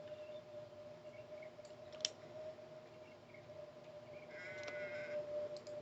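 Goat bleating in the video game Kenshi, faint wavering cries over a quiet ambient hum, with a short click near the start and a louder bleat toward the end.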